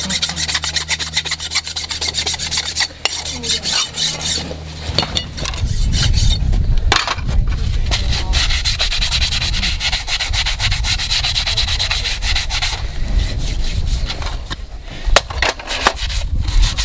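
Steady, coarse rasping as a sanding block rubs back and forth against a horse's hoof during horseshoeing, loud and close, continuing without pause.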